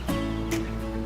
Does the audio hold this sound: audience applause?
no